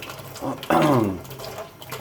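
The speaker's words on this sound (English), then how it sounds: "We fill them up like this with the hot water" Hot water being poured into empty beer bottles, a steady close splash with a rising gurgling tone as each bottle fills, brief and fairly loud, with a quiet voice in the background.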